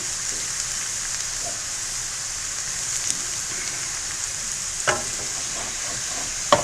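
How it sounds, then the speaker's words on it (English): Steady frying sizzle in a hot pan while gravy for a Moco Loco with an Asian Salisbury-style patty is stirred, brown bits scraped from the bottom, with a few soft utensil clinks standing out over the constant hiss. "scraping off all those brown bits. Just gently stirring it around"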